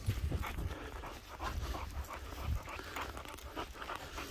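A dog pants steadily and close by, a rhythmic run of quick breaths continuing throughout with no voices.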